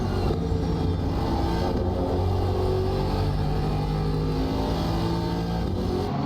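Loud, steady engine roar of a McLaren GT3 race car in a multiclass racing game round at Valencia, sustained with shifting revs and no voices over it.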